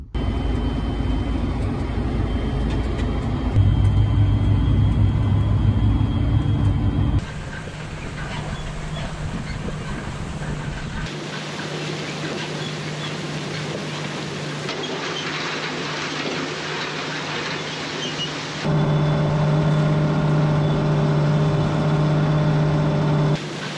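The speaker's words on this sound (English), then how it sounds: "let's go get in the chisel plow tractor and tear up some ground." Tractor pulling a chisel plow through a farm field, a continuous heavy engine drone with shifting low rumble and changing load across several sections, close and loud with no talking.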